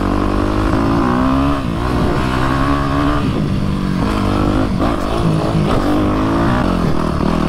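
A Yamaha YZF 250 four-stroke dirt bike engine revs loudly and close on a grassy field, its pitch rising and falling with throttle changes in a rough, continuous snarl.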